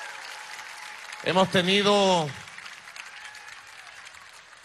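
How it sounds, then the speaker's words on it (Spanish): Faint, steady applause from an audience at a Venezuelan government broadcast, honoring the Bolivarian National Armed Forces, runs throughout while a voice speaks briefly over it midway. "Un aplauso a nuestra Fuerza Armada Nacional Bolivariana."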